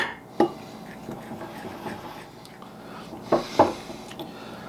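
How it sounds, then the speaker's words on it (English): Maple glaze stirred together in a bowl, a utensil knocking and scraping against the sides in scattered clinks, with a few sharper taps near the start and toward the end. "we are just going to mix this together until we get a nice glaze"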